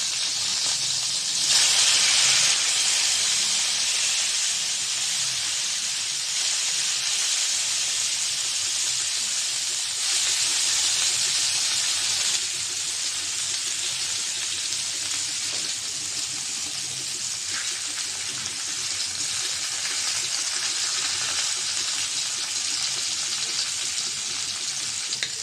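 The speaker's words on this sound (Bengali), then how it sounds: "মাছটা ভাজা হয়েছে, ওই পিঠটা উল্টিয়ে দিব।" Mrigal fish frying in hot oil in a kadai after being flipped, a steady loud hiss and sizzle that carries on without a break and rises in a few bursts, with no talking.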